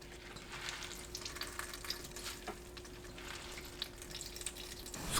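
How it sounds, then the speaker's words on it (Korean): Mung bean sprouts, 260 g and just blanched, rinsed in cold water in a kitchen, giving a steady broadband rush of running water with small splashes and clinks throughout, no talking. "건져서 찬물에 헹구고 물 짭니다."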